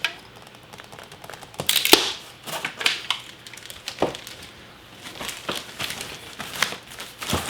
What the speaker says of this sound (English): we'll go ahead and cut the strap